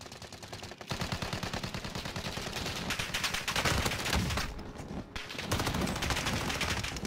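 Sustained rapid-fire gunshots in the video game Warzone rattle on almost continuously, with a brief pause near the start and another later, loud and mechanical like game weapons.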